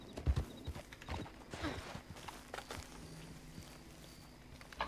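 A horse's hooves clip-clop in a Wild West video game, an irregular string of close knocks on hard ground over faint background hum, with no talking.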